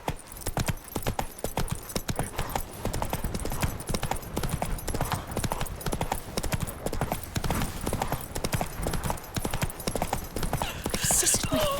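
Roach, the horse in the Witcher 3 video game, trots with steady, rhythmic hoof clip-clops, loud and close, continuing throughout, with a voice talking over them at times.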